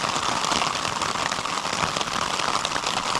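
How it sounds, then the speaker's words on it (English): Heavy rain drums steadily on a tent at night in the backcountry wilderness, a dense, continuous hiss of drops that stays loud and unbroken throughout. "it's raining hard."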